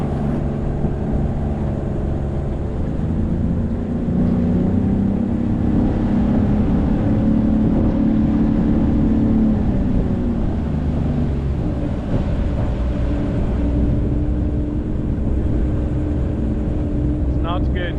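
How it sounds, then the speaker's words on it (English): A homemade boat's motor on its first water test, run at full throttle and straining, a steady loud droning hum with a rough, uneven tone near the microphone, wind buffeting throughout. "Motor does not sound happy. I'm gonna try and give it all the gas"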